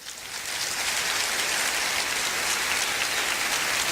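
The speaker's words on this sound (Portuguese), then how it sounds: "Dá um aplauso ao Senhor." A church congregation claps for the Lord, a dense, hissing wash of applause that swells in over the first half second and then stays steady and fairly loud.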